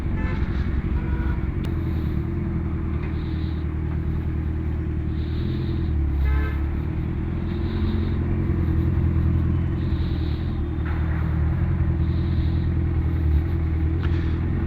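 A modified BMW S1000RR inline-four motorcycle engine idles and rumbles in street traffic, making a loud, steady low drone for the whole stretch with no speech.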